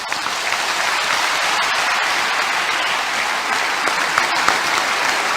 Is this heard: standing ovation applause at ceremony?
yes